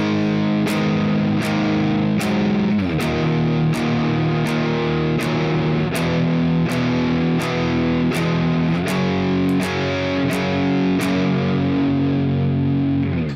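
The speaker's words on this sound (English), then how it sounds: "The verse is going to be using power chords, but we're also going to be playing individual notes at the same time." Distorted electric guitar playing the verse of a song, mixing power chords with single picked notes in a steady rhythmic pattern with regular accents, loud and alone, no talking.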